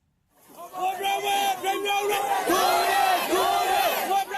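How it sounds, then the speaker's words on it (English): Angry crowd converging on a local government office in Mrauk-U, a small town in western Myanmar's Rakhine state: a loud, continuous mass of shouting voices and chanted cries, close and sustained throughout. "An angry crowd converges on a local government office in Rauk-U, a small town in western Myanmar"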